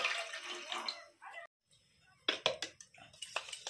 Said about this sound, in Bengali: গামলাতে 1 মগ জল দিয়ে দিচ্ছি।